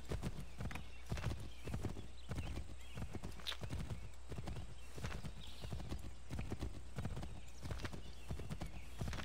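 A horse gallops in the video game Assassin's Creed III, its hooves clip-clopping in a fast, steady rhythm throughout, with a brief whinny partway through.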